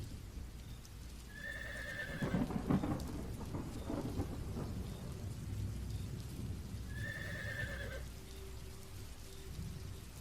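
Horses whinny in two clear calls amid steady heavy rain with rolling thunder, as a cart is dragged uphill during a sudden windy storm on a hill; no talking.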